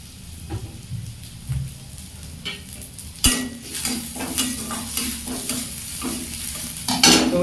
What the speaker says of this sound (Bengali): একটু ফোড়ন দিয়ে দেবো হালকা করে একটু ফোড়ন দিয়ে দিলাম